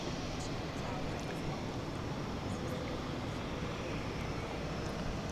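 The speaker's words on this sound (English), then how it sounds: "on the way to runway, there it is, to runway 36 right for taking off" Qantas Flight 22 airliner taxiing toward runway 36 Right for takeoff at DFW Airport at night, heard as a steady, continuous jet engine rumble at moderate distance with broadband roar and no clear breaks.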